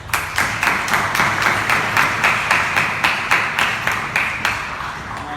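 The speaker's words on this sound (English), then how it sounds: "So a huge round of applause." An audience at an installation ceremony for a new club president claps in steady rhythmic unison, about three crisp beats per second, repeating evenly throughout.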